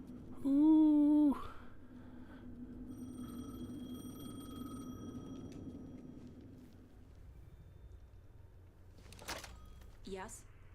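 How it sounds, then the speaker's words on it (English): A telephone rings loudly once near the start in the video game Alan Wake 2, a sharp warbling burst lasting about a second, then fades into low ambient rumble with faint distant clicks and thuds later. "The phone again."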